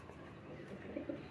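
Soft pigeon coos, two low throaty calls near the end over a quiet, muffled background.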